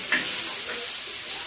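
Roti frying in hot oil, with a continuous close sizzle and faint bubbling, and an occasional light stir or scrape heard near the start.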